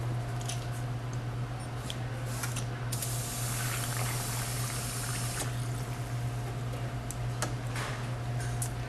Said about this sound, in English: Watch how fast and accurate anybody can pour a Captain & Coke with a Touch and Pour Cocktail Tower.